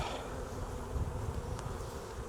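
Honeybees drone in a dense, steady hum around an opened hive during an inspection at an apiary, fairly faint and continuous with a low rumbling undertone.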